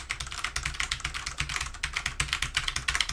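Rapid, steady clatter of typing on a Rosewill illuminated mechanical gaming keyboard with Cherry MX Brown switches, close and fairly loud, keystrokes tumbling in quick irregular bursts with no voices.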